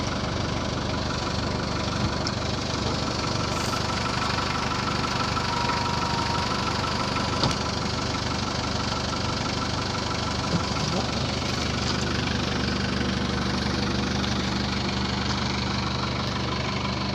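A 2000 Nissan King Cab pickup idles steadily, its engine a continuous low, even rumble that holds close and level throughout, with a faint knocking texture and a voice now and then over it.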